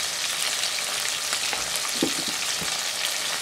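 Petai, chili, onion and shrimp paste stir-fried in a pan, giving a continuous loud sizzle close by with a few soft knocks of a spatula stirring midway, and no talking.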